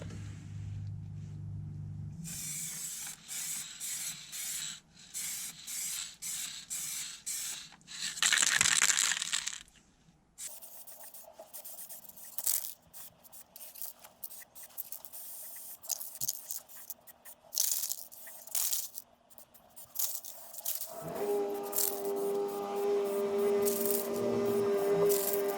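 Aerosol spray paint hissing in bursts onto a derusted Audi 5000 front brake part, with intermittent rattles and scraping handling noises between the sprays, close and fairly loud.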